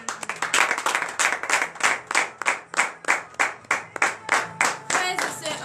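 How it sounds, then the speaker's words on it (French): A church congregation at a morning prayer service clapping in unison, a loud, steady rhythmic beat of about three claps per second, close and continuous with cheering mixed in. "Donnez de vives acclamations."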